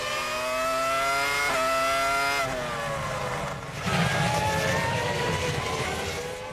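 Formula 1 race cars from the 2000 season racing after a safety car period, loud high-revving engines screaming past with pitch drops, gear changes, then another car accelerating through.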